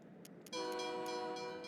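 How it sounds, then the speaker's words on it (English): In the video game SteamWorld Build, a train arrives with a sudden sustained horn-like whistle after a few soft ticks. The tone is fairly faint and holds steadily to the end. "There's the train."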